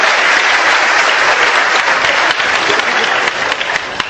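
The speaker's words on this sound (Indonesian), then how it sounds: "Tepuk tangan semua." A crowd applauds a musician at a gathering. The clapping is loud and continuous from a large audience, holds steady for about four seconds, then thins slightly at the end.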